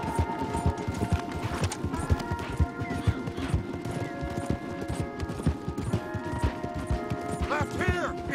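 Several horses gallop hard in Red Dead Redemption 2 with rapid, overlapping hoofbeats, loud and close, while voices call out over them and a horse whinnies near the end.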